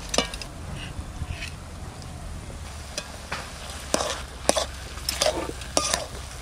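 A spoon stirs chana dal in a cooking pot over a soft sizzle, with scattered scraping knocks and clinks against the metal sides and no talking.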